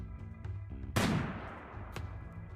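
A single loud gunshot from the Rimworld video game, a sharp crack with a decaying tail, followed a second later by a fainter second shot over a low game hum.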